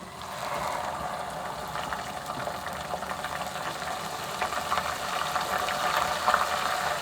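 Ground onion frying in hot oil, a dense, bubbling sizzle with a constant watery hiss and scattered sharper crackles, close and fairly loud, swelling slightly near the end.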